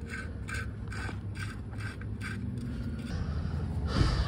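Oil drain plug on a 2016-2021 Honda Civic being threaded back in by hand, faint repeated clicking ratchet-like mechanical ticks in a steady rhythm over a quiet background, ending with a soft scrape.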